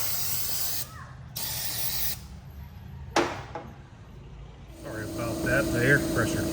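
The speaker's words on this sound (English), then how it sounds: "The air compressor kicked on." An air compressor motor starts up late in the clip and settles into a steady, droning hum, after several short hissing spray bursts and one sharp knock.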